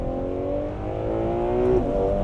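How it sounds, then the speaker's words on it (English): A Ferrari 12Cilindri Spider's 819bhp V12 revs hard, its loud, close engine note climbing steadily in pitch and swelling toward the end, with no voices over it. "What an engine!"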